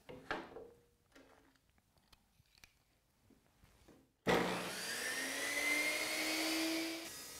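A table saw starts up and cuts across a piece of wood guided by a miter gauge, the blade whine rising to a loud, steady roar for about three seconds before winding down, after quieter handling noises.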